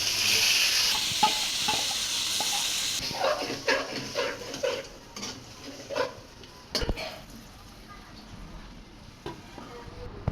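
Marinated meat hits hot oil with chopped onion and ginger paste, bursting into a loud, steady sizzle with scraping stirs and pan clatter, then settling into quieter frying with occasional sharp knocks.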